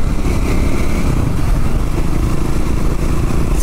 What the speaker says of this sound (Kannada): ಇದು ಒಂಥರ ನೇಕೆಡ್ ಬೈಕ್ ಗುರು.